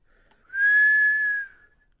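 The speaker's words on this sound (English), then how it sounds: "a loud whistle" A loud finger whistle made with thumb and forefinger between the teeth at daybreak over a valley, a single sustained high-pitched tone of about one second, clear and alone.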